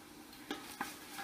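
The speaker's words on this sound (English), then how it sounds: "So right now we have our onion and garlic sauteing in the pot" Onion and garlic sautéing in a pot, a faint quiet sizzle with two or three soft scraping stirs close by.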